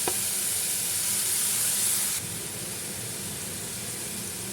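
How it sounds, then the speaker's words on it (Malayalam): Ginger, garlic and green chillies frying in hot oil make a close, continuous sizzle with hiss, louder at first and then dropping to a quieter, steady crackle for the remaining seconds; nobody speaks. "ഇനി അതിലേക്ക് ഇഞ്ചിയും വെളുത്തുള്ളിയും പച്ചമുളകും ഇട്ട് കൊടുക്കാം കേട്ടോ."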